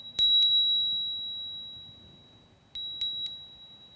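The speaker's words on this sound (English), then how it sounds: "walk in a clockwise direction around the space and just ring the bell" A small hand bell rung indoors to clear a room's energy gives two bright strikes, then after a pause three more quick rings, each leaving a clear shimmering decay.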